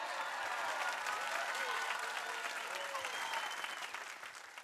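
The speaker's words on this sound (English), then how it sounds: "give a big round of applause" A crowd claps steadily and enthusiastically, a dense wash of applause that begins to fade toward the end.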